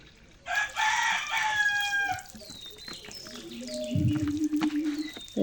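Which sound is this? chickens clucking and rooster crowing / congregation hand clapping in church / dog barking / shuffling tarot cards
chickens clucking and rooster crowing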